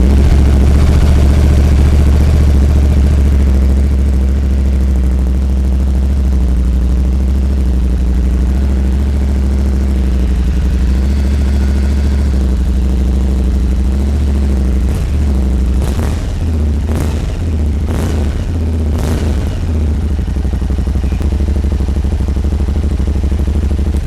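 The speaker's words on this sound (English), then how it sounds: "I will start up the bike because I want so bad to hear it. This twin cylinder 80 HP from Aprilia, right from the 660." A twin-cylinder 80 HP Euro 5 engine on an Aprilia Tuareg 660 motorcycle idles with a steady, deep throb, loud and close, with a few sharp blips of throttle near the end.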